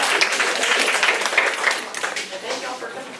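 Steady applause from a crowd, a dense wash of claps that fades slightly toward the end.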